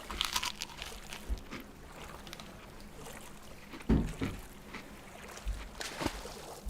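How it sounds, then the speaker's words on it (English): Someone bites into and crunches a frozen icy pole, giving a few scattered, close, crisp crunches spread across a quiet stretch with no talking. "So sorry for all the crunching that you might hear."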